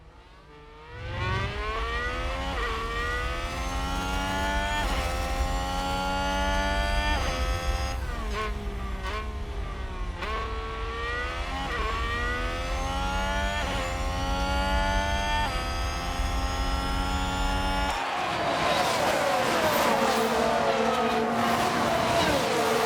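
Formula 1 race cars howl past in the F1 Manager 22 game at a UK Grand Prix, a loud continuous scream of engines with rising and falling pitch as cars overtake, ending in a broader roar.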